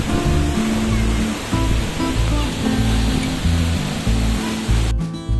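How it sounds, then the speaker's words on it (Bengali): Waterfall near Pelling, water plunging from a great height, a steady loud broadband roar that fills the whole clip, with low tonal layers underneath and a brief change near the end. "অনেক উপর থেকে পড়ছে ফলসের জল"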